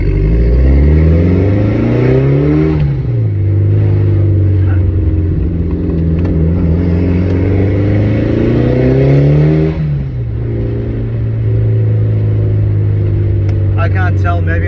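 A Mitsubishi Evo fitted with a new HKS cold air intake revs twice, each time the engine climbing in pitch and falling back to a steady loud idle, close and continuous with no talk over it.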